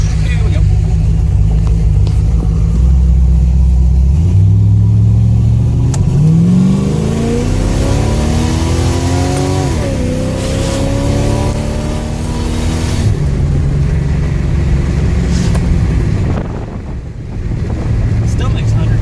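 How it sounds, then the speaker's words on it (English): A V8-swapped Volvo accelerates hard down a highway, its engine note climbing steadily through the gears under loud, continuous road and wind roar, with brief shifts and a voice talking over it. "this thing's gonna scream down the highway"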